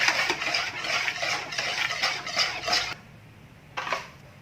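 A spoon scrapes and stirs a dough mixture with dissolved sugar and milk powder in a bowl, producing repeated close scraping strokes in a steady rhythm that stop briefly before one last stroke.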